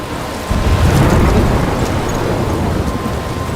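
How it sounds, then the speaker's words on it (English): Steady heavy rain and storm rumble in the video game Life is Strange, a loud continuous wash of noise that swells at the start and holds without break. "I'm trapped in a storm?"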